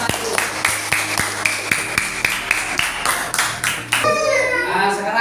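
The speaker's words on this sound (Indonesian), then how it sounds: "Oke, tepuk tangan buat kelompok 1." Classroom group in an Islamic jurisprudence lesson claps hands in rhythmic unison, a run of evenly spaced claps, then a looser burst of applause with children's voices.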